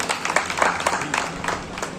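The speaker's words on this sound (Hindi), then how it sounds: "जोरदार तालियां बच्चों के लिए।" A crowd at a school award ceremony claps for top-scoring students, a brief burst of dense, uneven applause with a few distinct louder claps.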